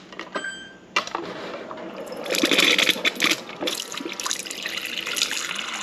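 Water running from an LG LRFVS3006S refrigerator dispenser just after a filter replacement, a close steady splashing stream into a container following a few clicks, with no voices.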